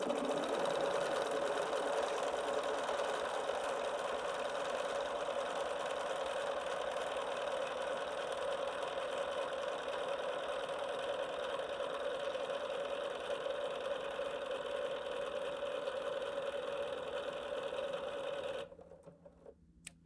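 A Bernina 770 QE Plus sewing machine stitches fabric with a steady, close mechanical whir that runs without a break for about eighteen seconds and then stops abruptly.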